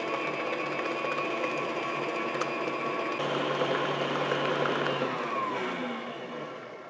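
An electric mixer whirs steadily while beating apple cake batter, a constant motor drone that holds level and softens slightly near the end, with no talking.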